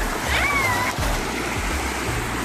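Continuous rushing of a flowing river at Salshinge village fills the clip, steady and close, with a brief whistle-like tone near the start.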